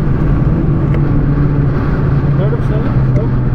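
A Volkswagen Golf 3 with 100 bhp and winter tyres accelerates on the Zandvoort circuit, its engine a loud, steady in-cabin drone with people talking over it throughout.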